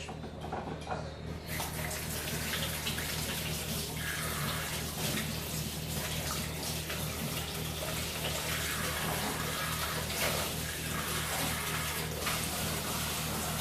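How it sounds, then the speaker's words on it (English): Water running steadily from a kitchen tap while hands are washed, a constant near hiss with light splashing changes, no talking. "let me give my hands a quick wash"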